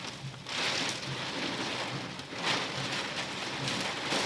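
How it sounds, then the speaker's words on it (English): Heavy rain lashes down during a severe storm in southeast Iowa, a dense, loud, steady roar of drops striking surfaces that swells in a few waves and goes on throughout, with no voices. "Well, then you can't see it raining so hard."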